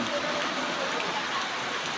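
Heavy rain pours steadily over Mirpur, a dense, continuous hiss of water hitting surfaces close by, unbroken for the whole stretch with no voices.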